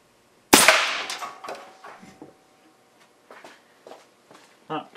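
A DIY big bore air rifle fires a AA battery at about 270 psi, giving one loud sharp crack followed by scattered clicks and handling noises.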